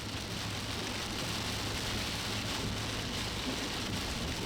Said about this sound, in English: Yeah, this is a good storm.